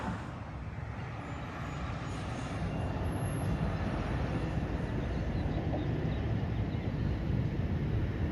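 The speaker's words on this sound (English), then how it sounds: "northbound GO train" Northbound GO commuter train rolling into Milliken Station in Scarborough, Toronto: a steady, fairly distant rumble and rail noise that holds evenly throughout and builds slightly toward the end, with no talking.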